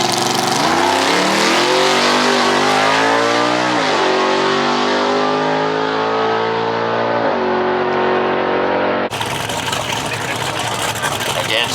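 A small-block drag race car revs hard and close, its loud engine climbing and dropping in pitch over several seconds before cutting to a rough, noisy roar.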